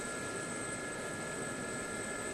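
Steady turbine whine of an SA342 Gazelle helicopter engine in DCS, hovering, an even broadband roar with high sustained tones, constant and unbroken with no voices.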